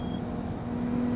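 An Aston Martin mod car engine in the BeamNG.Drive driving game, a brief steady engine drone with a held tone, moderately loud and heard alone without talk.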